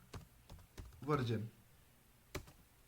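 A computer keyboard types a command into an Ubuntu terminal. A few sparse, crisp key clicks sound near and quiet, with a short burst of a voice speaking in the middle.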